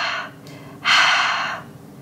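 A voice imitating heavy breathing on a phone answering-machine message, first a short airy inhale, a brief pause, then a longer, louder rasping breath, close and alone.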